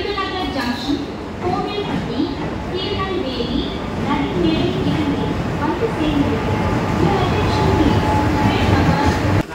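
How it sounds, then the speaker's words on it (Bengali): A local train pulls in at platform 4 of an Indian railway station on a route toward Kanyakumari, with a continuous rumbling roll and a tonal hum under a busy platform din and distant voices. "4 নম্বর প্ল্যাটফর্মে দিল আমার কন্যাকুমারী যাওয়ার লোকাল ট্রেন।"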